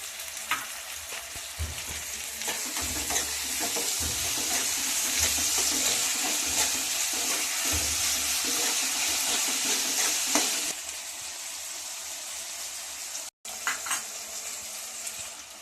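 Sliced onions with salt sizzle and fry in a pan while being stirred, a loud steady hiss with scraping and clinks, dropping in intensity partway through before a short silence and quieter frying.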